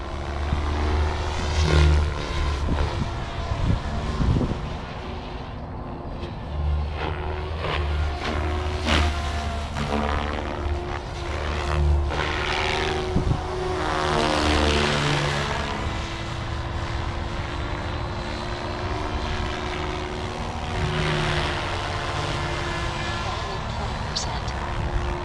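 A radio-controlled model airplane called RS5, back in the air after a crash, drones steadily overhead with a continuous propeller-engine whine that swells and fades as it passes, with wind and outdoor background noise throughout.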